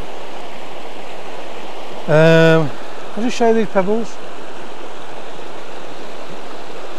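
A river runs over rocks beside a bridge, giving a steady, broadband rush of white water that continues through the whole stretch, while someone speaks briefly over it.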